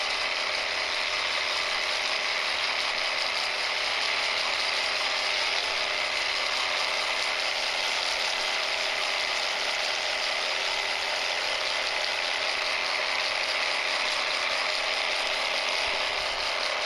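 A WORKPRO X battery-powered seed spreader runs continuously, its motor and spinning broadcaster giving a steady, loud whirring rattle with no gaps, heard up close and alone.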